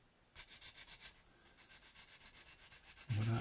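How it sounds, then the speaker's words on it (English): Fine sander polishing a 3D printed Star Wars Y-Wing model, making quick rhythmic rubbing strokes that are close and soft, ending in a louder thump. "we'll switch over now to a finer sander"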